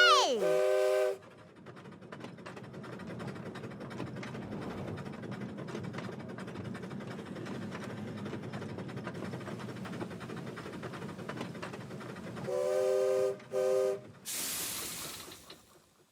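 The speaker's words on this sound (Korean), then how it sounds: "한글 기차 출발!" A cartoon train departs in a Korean children's Hangul-learning show. A whistle blows at the start, a steady rumbling run follows, and then several more whistle toots come at the end.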